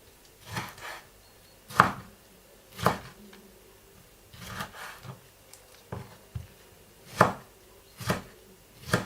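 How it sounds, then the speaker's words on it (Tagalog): Knife chopping through a cherry tomato on a cutting board, a series of sharp, close thuds spaced about a second apart, with quieter taps between them. "I add this cherry tomato. I cut only in the middle."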